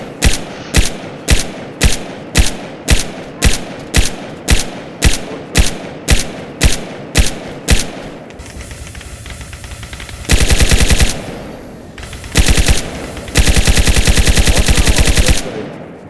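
Automatic gunfire in the survival game DayZ: a steady run of about fourteen sharp, evenly spaced shots, then a pause and several longer sustained bursts of rapid fire, loud and close.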